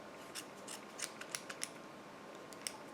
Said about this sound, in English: I use my embroidery scissors to just go right up the center and cut